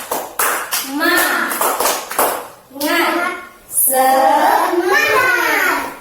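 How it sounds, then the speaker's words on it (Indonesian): Children in a classroom do a rhythmic spirit clap, sharp patterned hand claps mixed with loud chanted children's voices in short bursts, close and lively. "Udah, tepuk semangat"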